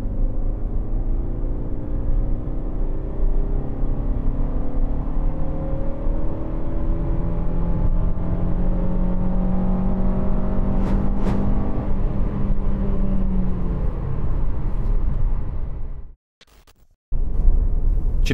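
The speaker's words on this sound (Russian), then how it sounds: "резко утапливаю педаль газа в пол" Lada Vesta fitted with a sport intake accelerating hard in third gear, a sustained engine drone rising steadily in pitch for about fifteen seconds before a brief gap at the gear change, then resuming loudly.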